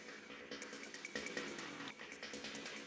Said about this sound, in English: So it gives like this alien sort of mad sound in the background